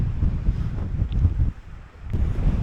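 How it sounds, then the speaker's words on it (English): Steady, heavy wind buffets the microphone on a mountain bike ride, a low rumbling roar that gusts and dips, then picks back up. "Really windy."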